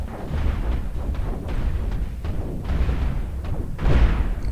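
Standard cannons fire in the space ship battle game Cosmoteer, a rapid, continuous barrage of loud thumping shots and booms throughout, with no talking.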